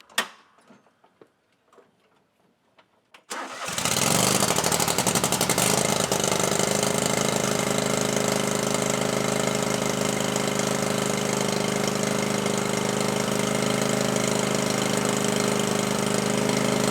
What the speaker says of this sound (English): I'm going to close the hood, start it up